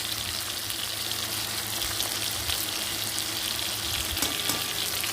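Whole peeled garlic cloves drop into tomatoes frying in a pan, a loud steady sizzle with close crackling and no talking.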